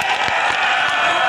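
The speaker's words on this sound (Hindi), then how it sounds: "मैं चाहता हूं कि प्रियंका जी के स्वागत में एक ऐसी ताली बजे" A large crowd at a farmers' rally in Saharanpur claps steadily to welcome Priyanka Gandhi, a dense, continuous wash of applause with no pauses.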